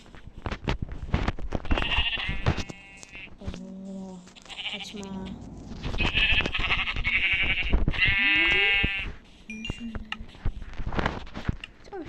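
Sheep bleat several times in a video game, loud nasal calls in bursts with short gaps, mixed with clicking and pattering game sounds while someone talks between them.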